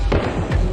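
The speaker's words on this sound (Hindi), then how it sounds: "लेकिन बायसरन घाटी में गोलियां चलने लगी थी।" Gunshots are fired in Baisaran valley, Pahalgam. Two sharp, booming reports come about 0.4 seconds apart over a rough outdoor background.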